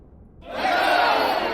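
A spell sound effect from a tabletop role-playing game begins with a short quiet lead-in, then bursts into a loud, sustained, roaring whoosh that holds to the end.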